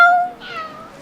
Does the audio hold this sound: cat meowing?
yes